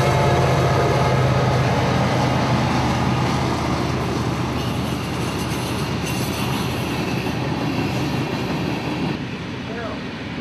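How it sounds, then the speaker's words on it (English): A train rolls past a country house set right beside the tracks in Folkston, on a line carrying about 60 trains a day, its loud continuous rumble and rattling wheels filling the whole stretch close by before easing slightly at the end. "60 trains a day, right across the front yard."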